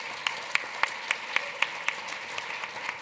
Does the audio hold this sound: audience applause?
yes